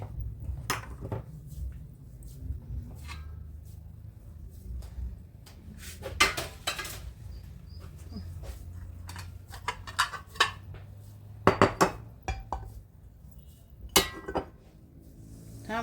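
Plates and dishes being set out in a home kitchen during dinner preparation. Scattered clinks of crockery and cutlery ring out at uneven intervals over a quiet background, with a few clustered knocks.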